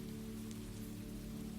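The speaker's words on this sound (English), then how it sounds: "At last, the rain began to lighten. The sound on the awning grew finer." Rain falls on an awning as a soft, continuous patter of drops on the surface. It stays steady and fairly quiet for the whole short stretch, with no voices.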